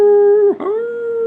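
A person imitates a wolf howl with a loud, sustained, close vocal tone that dips briefly in the middle before rising and holding again.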